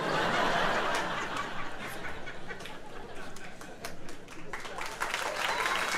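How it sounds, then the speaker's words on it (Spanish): An audience at a live comedy roast show in Colombia claps loudly, the applause mixed with laughter and chuckles, strongest at the start and dipping slightly before picking back up. "Aguantando la pausa para el aplauso"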